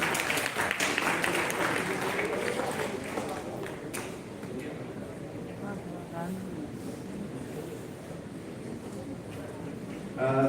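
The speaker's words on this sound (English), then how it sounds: "At least clap for them," Students clap throughout a college personality development session in Delhi, a dense, steady patter of applause from a hall audience that tapers slightly toward the end.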